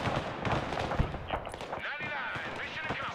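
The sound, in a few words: anti-tank weapons firing in the video game Broken Arrow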